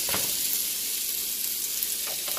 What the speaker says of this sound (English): We're gonna add the rice to the pot. Let's mix it up.